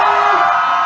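A karaoke crowd cheers and whoops loudly and continuously, a dense wall of voices sustained for the whole moment with no break.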